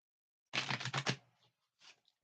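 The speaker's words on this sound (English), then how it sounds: "This is a very challenging to shuffle these cards." A deck of tarot reading cards is shuffled up close: a quick burst of rapid crisp clicking and fluttering, then a few faint, scattered card snaps. No one speaks.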